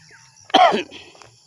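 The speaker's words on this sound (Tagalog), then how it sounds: "Pasensya na po at may kaunting ubo pa." A single short, harsh cough rings out close by against a quiet background.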